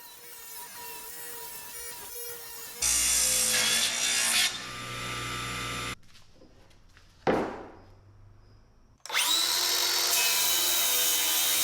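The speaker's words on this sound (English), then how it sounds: "And then cut it down to size to fit on top of the cabinet." Reclaimed wood being cut to size for a TV console top, with bursts of a loud, steady power-tool whine and cutting noise broken up by brief pauses and a short whoosh.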